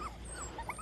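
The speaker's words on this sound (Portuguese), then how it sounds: "Ixi, olha lá, três cachorrinhos." Puppies give short, high whimpers and yips close by, a few thin squeaky cries in under a second over low background noise.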